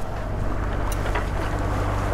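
Wind buffeting on a boat out at sea near Royan, a continuous loud roar with low rumble and no speech.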